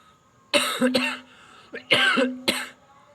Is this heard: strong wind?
no